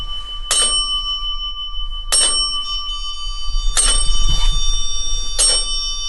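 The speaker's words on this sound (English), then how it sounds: "there's that bell over there too" Bell aboard the USS Batfish submarine rings four times at uneven intervals, each a sharp metallic strike with a long ringing decay, loud and close in a quiet compartment.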